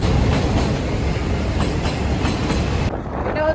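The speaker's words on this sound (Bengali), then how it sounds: "আমাদের পাশ দিয়ে ট্রেন চলে যাচ্ছে" A train rolls past close alongside riders on a motorbike crossing the Farakka bridge, with loud, steady rumbling and clattering wheels that drop away abruptly near the end.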